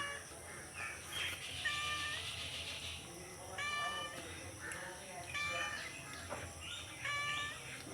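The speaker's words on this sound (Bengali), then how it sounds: "বিল্লি ম্যাও ম্যাও ম্যাও ম্যাও করছে" A cat meows several times, about four drawn-out cries spaced a second or two apart, close by against a quiet indoor background.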